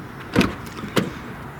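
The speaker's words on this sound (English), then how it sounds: "In fact, I'm going to pop them up right now." Pop-up headlights on a Mitsubishi 3000GT rise with two short mechanical clunks, the first stronger, about half a second apart, close by over a faint background hum.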